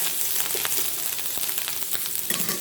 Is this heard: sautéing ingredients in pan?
yes